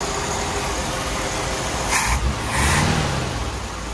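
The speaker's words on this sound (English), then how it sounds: "this is the first time it's idled without choking on fuel since I put the fuel pump on" A Jeep CJ8 engine runs steadily after a fuel pressure regulator was fitted, a loud, close, continuous mechanical drone with a slight swell near the end.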